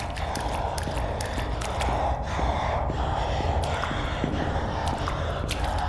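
Heavy, ragged breathing loops steadily in the Sewer Call horror video game, a constant close gasping and snorting texture with faint footstep-like clicks underneath and no speech.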